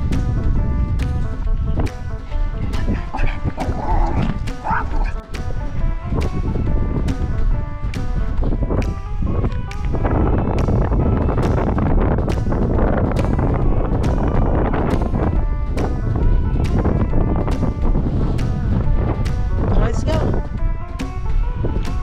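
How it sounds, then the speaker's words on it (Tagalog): Strong autumn wind blowing through a park, roaring and buffeting against the microphone in loud, steady gusts, with people talking underneath. "Lakas na ng hangin."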